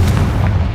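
A Confringo blast spell explodes in Hogwarts Legacy as one loud, booming, low-pitched burst that fills the whole short moment with a heavy rumble.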